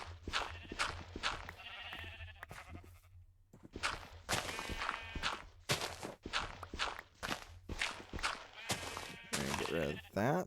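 Sheep in a pen shuffling and stepping about nearby with frequent hoof and footstep noises, a few bleats mixed in, and a person talking over the movement.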